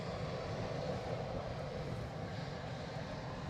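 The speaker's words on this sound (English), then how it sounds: "Here's our inbound EasyJet from Geneva." An inbound EasyJet airliner from Geneva arriving at Edinburgh Airport produces a continuous low engine rumble with a soft broadband hiss, moderately distant and unbroken.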